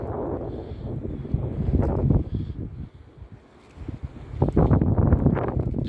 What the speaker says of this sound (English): it's such a strong wind that I almost lost the grip.